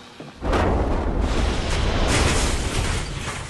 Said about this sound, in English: the sugar dust contacted a nearby ignition source, likely an overheated bearing, and exploded.